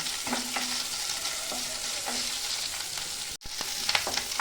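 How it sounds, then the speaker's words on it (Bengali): Onion, green chilli, ginger and garlic sizzle steadily in a pan, with a few scrapes of stirring and a brief pause near the end. "পেঁয়াজ, কাঁচা লঙ্কা, আদা, রসুন ভাজা হয়ে গেছে"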